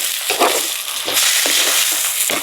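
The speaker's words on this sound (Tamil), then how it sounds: "எண்ணெயிலேயே வதக்கிடுவோம் கொஞ்சத்துக்கு." Loud crackling sizzle of chopped green mango, tomato, onion and green chilli frying in hot oil, with scraping stirring sounds breaking through at irregular moments.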